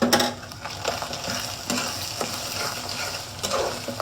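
Chili powder, turmeric and salt fry in a pan while a spoon stirs, a loud steady sizzle broken by repeated scraping strokes, close up with no speech.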